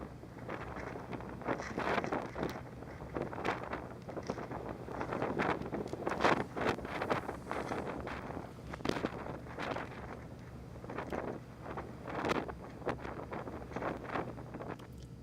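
Strong, gusting wind at the cold summit of Mount Washington roars and buffets against the microphone in uneven surges, loud and close, with no voices.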